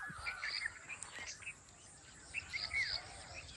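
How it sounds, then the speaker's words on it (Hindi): Asian koel calls from trees near a farm field, repeated high chirping phrases, faint and somewhat distant, with other birds and insects in the background. "कोयल के बोलने की आवाज़ आ रही है, वो सामने दरख्तों पर बैठी हुई है"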